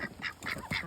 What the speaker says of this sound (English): Bad ducks.